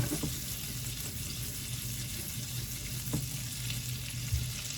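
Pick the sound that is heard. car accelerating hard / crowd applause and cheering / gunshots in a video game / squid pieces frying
squid pieces frying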